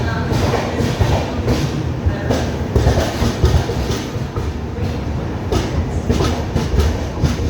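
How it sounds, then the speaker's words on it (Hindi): Andhra Pradesh Express train pulling out of a large junction station, steady rumble with rhythmic wheel clacks over rail joints, heard from on board and continuous throughout. "जंक्शन से ट्रेन अपने पूरे 15 मिनट के हॉल्ट के बाद निकल पड़ी है।"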